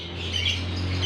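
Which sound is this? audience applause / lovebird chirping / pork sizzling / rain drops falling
lovebird chirping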